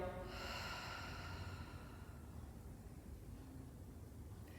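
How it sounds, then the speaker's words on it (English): A long, steady breathy rush of air, soft and close, a slow throaty ujjayi (ocean breath) exhale through the nose during a yoga class, fading gradually with no talking. "You can continue on with that ujjayi, or ocean breath as we call it"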